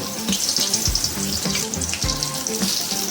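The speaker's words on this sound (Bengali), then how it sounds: "আস্তে করে তুলে নিয়ে তেলের মধ্যে ছেড়ে" A pumpkin flower dipped in gram-flour batter lands in hot oil over a low flame and fries with a loud, dense, bubbling sizzle that holds steady, punctuated by a couple of soft low thumps.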